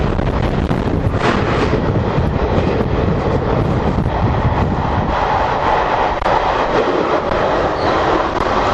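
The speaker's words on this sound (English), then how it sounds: "you did nearly get hit by a freight train" A heavy freight train rumbles past at close range, a loud continuous roar of wheels and wagons with wind buffeting the microphone.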